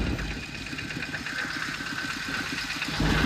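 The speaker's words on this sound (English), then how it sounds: "farmers' tractors going past you in the background" A farm tractor's engine in rural Thailand chugs with a steady rhythmic knocking, passing at moderate distance and swelling slightly louder toward the end.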